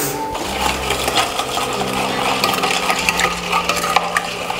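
Spoon scraping and stirring garam masala, salt and other spices through soya chunks in a pan, a steady close busy rattle with clinks and a faint hum running underneath throughout.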